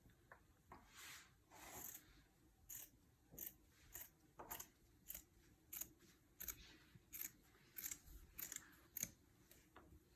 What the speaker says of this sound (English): We're just going to cut out the rest of the fabric to be the same size.